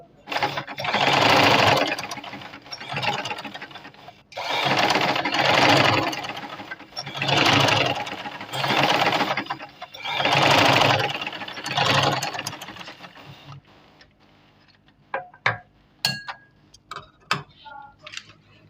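Sewing machine stitching lining suit fabric (shameez kameez sleeve seam), loud buzzing runs in four or five bursts with short pauses, then stopping to leave faint clicks and handling taps.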